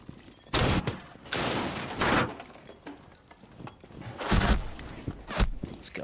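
Bursts of SMG-12 submachine gunfire in Rainbow Six Siege, several rapid loud volleys spread across the clip with brief pauses between them, with no talking.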